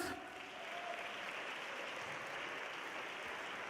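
A large ceremony audience at the EUCYS 2017 award event claps steadily, a broad, even wash of applause filling the hall at a distance for several seconds with no talk on top.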